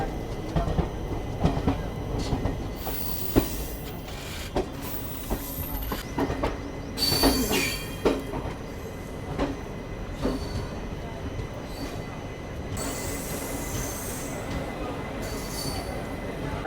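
Puri-Patna Express train at Rajendra Nagar Terminal station, heard as steady rolling rail noise with occasional clanks, squeals and brief bursts of hiss throughout, fairly distant and continuous.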